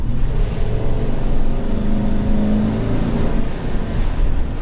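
A 2020 GMC Savana 3500 cutaway van with a six-liter Vortec engine accelerates, its loud, close engine drone rising and holding steady for a few seconds with no talking.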